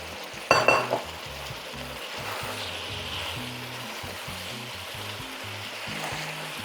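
Garlic scapes hitting a hot pan with beef, a brief loud clatter and burst of sizzle, then a steady close frying hiss running throughout with no voices.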